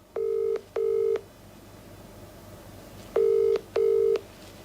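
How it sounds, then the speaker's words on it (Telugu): Telephone call being dialed: four short, loud electronic keypad beeps in two pairs separated by a pause, set over a faint low background hum. "సరే, ఆయనకి కాల్ చేద్దాం"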